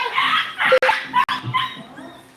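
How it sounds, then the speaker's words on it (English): Several dogs bark and yip in short bursts at a household in the Philippines, with a brief whimper among them, fairly close and loud with no talk over them. "Dogs barking,"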